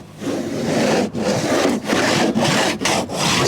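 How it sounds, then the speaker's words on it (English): A cheese grater rasp shaping gummy body filler on a GMC 3500 truck panel, long continuous coarse rasping strokes broken by short pauses, loud and close, with no talk. "This is way too gummy to try and sand right now. Cheese grater, not my favorite so far."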